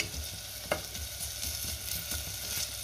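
Onion with ginger-garlic paste sautés quietly in a pan, a soft steady sizzle broken by a few scraping stirs of a spatula, close but low in level, no voices.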